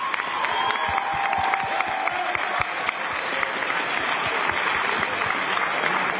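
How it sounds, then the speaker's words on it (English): A crowd applauds talent show contestants at the end of the night, with sustained clapping and some cheering throughout and a few louder claps standing out near the front. "Just have one more round of applause for all of our contestants tonight."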